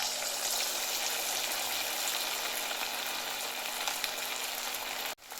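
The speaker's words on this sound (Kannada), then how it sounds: "ಕಬಾಬ್ ಕರಿಲಿಕ್ಕೆ ಕಡಾಯಿ ಇಡೋಣ. ಇದಕ್ಕೆ ಎಣ್ಣೆ ಹಾಕೋಣ. ಈಗ ಎಣ್ಣೆಯಲ್ಲಿ ಬಿಡೋಣ." Chicken kebab pieces fry in hot oil in a kadai, giving a loud, steady sizzle that fills the space without letup until a sudden clunk and drop near the end.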